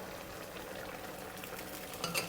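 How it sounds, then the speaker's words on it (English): Sauce for garlic braised pork ribs, thickened with cornstarch solution, is lightly stirred in a pot. The sound is a quiet, continuous bubbling and scraping, with a few clinks near the end. "And just give this a light stir"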